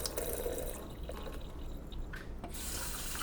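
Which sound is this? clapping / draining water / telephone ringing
draining water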